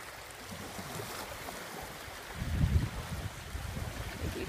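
Water laps close by near a shore where kayaks sit, a soft, irregular splashing and swishing that swells louder midway and continues unevenly, with no talking.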